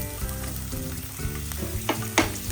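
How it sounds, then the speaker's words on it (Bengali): Green chilies and chopped onion frying in hot oil in a pan, a steady close sizzle with a few sharper spatters and stirring scrapes near the end, no voices. "ওই তেলে কাঁচামরিচ এবং কেটে রাখা কিছু পেঁয়াজ দিয়ে দেব।"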